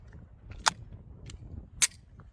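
Two sharp, distant-sounding shots from an FN 509C Tactical 9mm pistol with threaded barrel, spaced about a second apart over a low rumbling background, with no talking.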